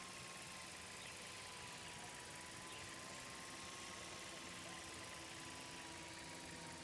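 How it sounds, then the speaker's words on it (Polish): Drone flying around a school campus in Life is Strange 2, a steady whirring engine-like hum with constant rotor buzz, continuous and fairly loud throughout. "Here, give the drone a whirl around campus."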